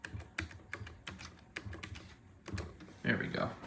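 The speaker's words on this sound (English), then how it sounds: "I will type in the password" A password being typed on a computer keyboard, heard as a string of quick, close key clicks in an irregular rhythm, quiet overall, with a brief burst of voice near the end.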